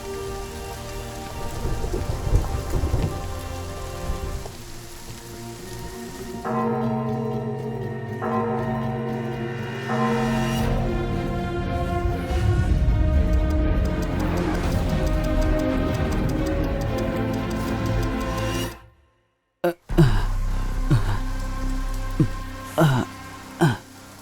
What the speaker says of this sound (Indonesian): Hujan ini sempurna.